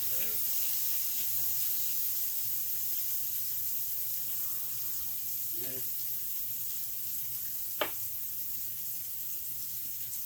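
A pan holding a cooking steak sizzles steadily with a soft hiss of steam after a little water is added, with a few faint clinks from the pan in the background.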